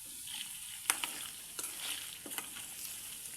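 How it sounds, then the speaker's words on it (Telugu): Chicken pieces for pickle deep frying in hot oil make a soft, continuous sizzle, with a few sharp clicks and scrapes from stirring. The sound is faint and distant. "ఇలా ఫ్రై అవనియాలండి, కొంచెం డీప్ ఫ్రై అవనివ్వాలి"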